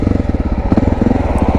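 A motorcycle engine stalls as the rider brakes to a stop while still in gear, giving a loud, close, rapid chugging pulse that runs steadily through the whole short stretch.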